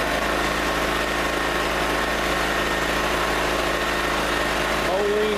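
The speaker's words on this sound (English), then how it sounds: "Let it run the gas out of the carburetor." A small Generac generator engine runs steadily at idle with its fuel shut off, burning the last gas in the carburetor, a loud, constant close-up drone with a slight wavering near the end.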